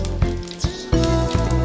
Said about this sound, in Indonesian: Setelah didiamkan 10 menit dan bumbunya mulai meresap, lele siap digoreng.